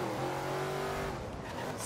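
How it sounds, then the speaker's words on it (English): The Hot Wheels Bone Shaker in Forza Horizon 3 revs through its side exit exhaust, a continuous raspy engine tone with a brief pitch shift and rising hiss at the end. "You can really hear that side exit exhaust,"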